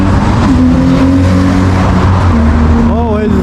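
Loud, dense road traffic roars along a busy Moscow street, with engines droning and vehicles rushing past close by in a continuous wash, while someone talks over it.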